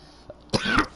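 A man coughs hard twice close to the microphone, a short harsh burst with a throat-clearing quality, after a faint small sound just before.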